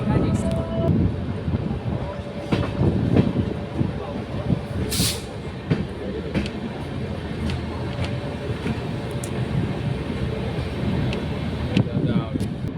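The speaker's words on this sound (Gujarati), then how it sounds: "જામનગરમાં આપણી ટ્રેન પ્લેટફોર્મ નંબર 1 પર આવી રહી છે." A train rolls into platform 1 at Jamnagar with a steady rumble and rattle under someone talking, heard from on board with wind buffeting the microphone and occasional sharp clanks.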